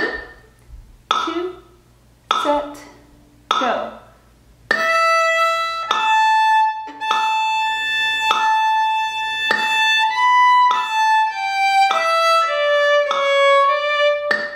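A single fiddle plays a phrase of the old-time tune Cold and Frosty Morning, opening with a few short separate bowed notes and then moving into a flowing run of sustained, stepwise notes up close, with no talking.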